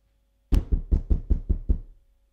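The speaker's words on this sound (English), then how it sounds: "Somebody knock on the door." Knocking on a house door: seven sharp, evenly spaced raps in quick succession, close and loud, with nothing else heard.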